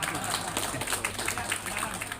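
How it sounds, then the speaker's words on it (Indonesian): An audience at a Syawalan religious gathering of Kagama Lampung applauds, a steady wash of clapping that stays even throughout. "Tepuk tangan, Pak."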